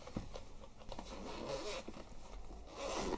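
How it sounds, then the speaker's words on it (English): A zipper on a soft drone carrying case is pulled open in several quick, close scratchy runs, quiet and with no voice over it. "A nice zip on it, or zipper."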